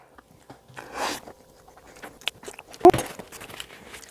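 Someone chewing a mouthful of potted meat close up, soft wet bites and mashing with a sharper click partway through, fairly quiet.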